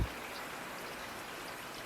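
Steady rain falls continuously in an even, dense hiss, close and moderately soft, with no talk over it.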